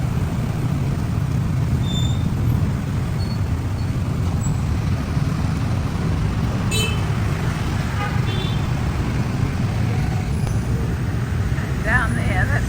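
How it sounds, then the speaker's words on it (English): Heavy city traffic near a volcanic lake, a dense constant roar of engines and road noise with occasional horn toots and brake squeals, loud and unbroken throughout. "Can you hear the noise? The traffic is just crazy."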